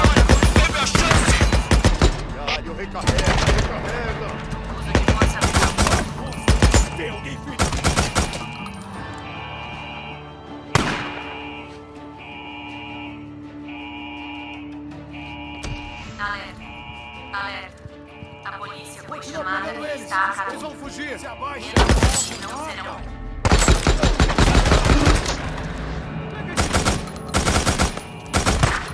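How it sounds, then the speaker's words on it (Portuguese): Gunfire in the video game Days Gone, with loud bursts of rapid automatic shots at the start and end and scattered single cracks between, under a droning alarm tone with people talking over it. "Mais vários disparos identificados."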